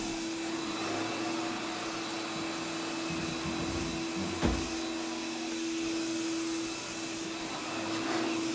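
A Vacmaster 8 gallon two-stage shop vacuum runs in a steady, continuous whine with a constant drone, a brief knock near the middle and no voices over it.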